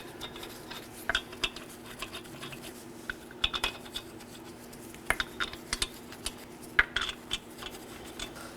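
Lug nuts are threaded by hand onto the left front wheel of a 2018-2024 Chevrolet Equinox, making scattered light metallic ticks and scrapes close by over a steady low hum, with no voices.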